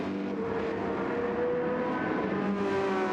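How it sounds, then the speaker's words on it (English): A Porsche race car engine wails in a high-pitched, screechy note during a race at Barcelona, sustained and fairly loud with a steady whine and slight pitch changes, no voices. "In that Porsche, it sounds a little bit more screechy, doesn't it?"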